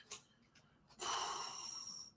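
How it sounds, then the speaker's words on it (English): Heavy, wheezy breathing from a man on a podcast, with a few short sharp intakes followed by one long, noisy breath close to the microphone. "This man always breathing."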